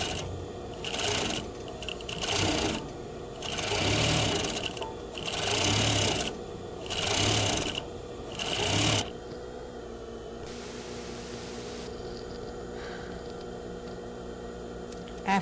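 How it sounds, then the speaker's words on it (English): A sewing machine stitches a shirt collar at a quarter-inch seam allowance in five or six short, loud bursts with brief pauses between them, then falls to a faint hum with near silence. "We will stitch the shirt collar using 1/4 of an inch seam allowance."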